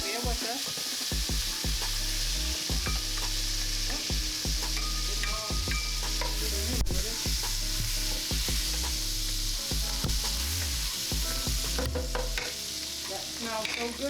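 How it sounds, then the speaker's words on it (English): Garlic sizzling in two frying pans side by side, a steady crackling fry broken up by scrapes and clinks of stirring utensils against the pans throughout, with no talking. "we'll put a tablespoon of garlic in each pan"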